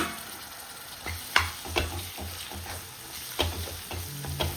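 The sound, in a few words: tomato frying in oil for mutton kheema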